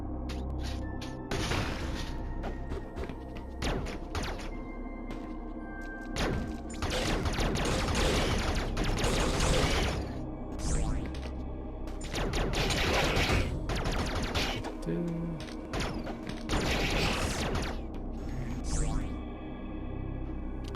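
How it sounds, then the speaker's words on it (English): Missiles fire in a Nintendo video game run on an emulator, coming as repeated loud bursts of rapid, rattling blasts separated by short lulls of lower droning game sound. "They have to hit these with missiles."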